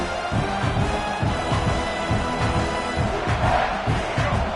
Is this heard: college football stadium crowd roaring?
yes